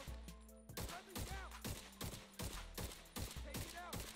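Sustained automatic weapon fire in The Division 2 video game, loud and close, with regular rapid shots repeating steadily throughout and game effects layered underneath.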